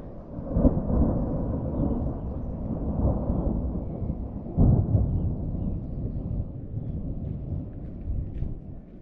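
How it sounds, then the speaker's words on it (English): Rain arriving on a mountain trail near Whitefish, Montana, heard as a steady low rushing wash with a few stronger swells and rumbles, continuous and moderately soft throughout, with no speech. "A little bit of rain coming in."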